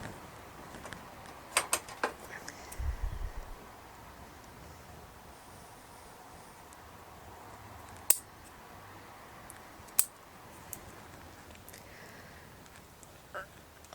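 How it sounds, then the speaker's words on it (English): Scissors snip through Norway spruce bonsai roots growing up out of a pot, a few sharp isolated cuts with soft rustling in between, close but quiet against a hushed background. "I'm going to have to cut them off."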